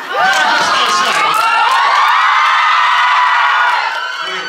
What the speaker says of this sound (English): You can hear them outside yelling